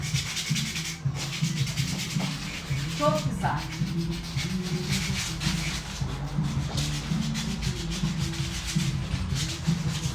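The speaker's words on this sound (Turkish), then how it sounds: "Her yerini, kenarlarını, köşelerini zımparalamadığımız yer kalmasın." Steady scratchy rubbing of sandpaper on a wooden angel figure runs throughout, sanded by hand, with children's voices chattering over it.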